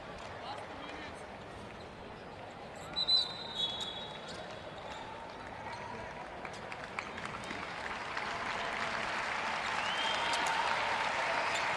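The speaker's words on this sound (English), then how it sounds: "So the crowd gives it up for the Economopoulos." At a FIBA U20 European Championship basketball quarter-final between Turkey and Greece, the arena crowd applauds, a broad wash of clapping that swells toward the end, with a commentator talking over it and a few ball bounces early on.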